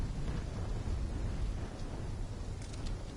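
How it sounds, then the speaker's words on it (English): A thunderstorm in Call of Duty 3 gives a loud, low, continuous rumble with a wash of rain and wind noise that holds steady throughout. "When the full force of the storm hits, we'll be looking at 150-mile-per-hour winds."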